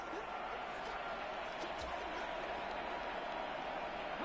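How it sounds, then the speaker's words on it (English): Steady stadium crowd roar inside a domed arena in a football video game during overtime near the goal line, a dense wash of cheering and applause that continues throughout, with commentary heard over it. "The crowd here in the Dome making things difficult."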